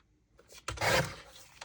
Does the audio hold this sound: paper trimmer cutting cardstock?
yes